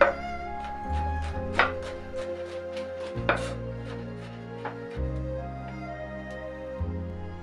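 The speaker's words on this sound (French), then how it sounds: "Hachez la gousse d'ail" Kitchen knife mincing a garlic clove for a pork and sweet pepper dish, a few sharp taps on the board sounding faintly beneath steady background music.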